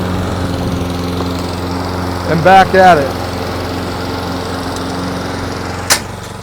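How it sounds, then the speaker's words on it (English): A STIHL RM 655 VS lawn mower cutting grass gives a steady, close engine drone throughout; someone speaks briefly over it midway, and a short click comes near the end. "I'm going to start mowing a little bit."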